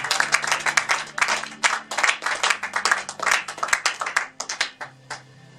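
A church congregation claps in quick, irregular bursts of applause, close and lively, over a sustained keyboard tone in the background.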